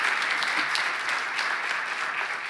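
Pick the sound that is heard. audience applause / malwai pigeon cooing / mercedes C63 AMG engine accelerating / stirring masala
audience applause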